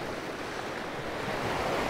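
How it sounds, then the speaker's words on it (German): Sea surf washes onto a rocky Greek shore in a continuous broadband roar, with steady wind noise on the microphone and no distinct individual wave breaks. "Ja, hier kommen schon ab und zu mal höhere Wellen drauf"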